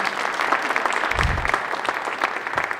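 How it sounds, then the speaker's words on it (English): A graduation audience gives dense, continuous applause for transitioning students, a close and steady roar of many hands clapping, with one brief low thump partway through. "Give a round warm of applause for these students transitioning."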